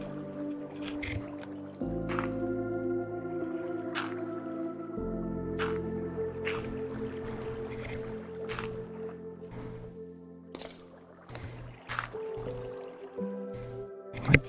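Flowing water in Minecraft VR: soft, steady liquid trickling and gurgling blended with sustained tonal game music, scattered small clicks and block sounds, fairly quiet throughout.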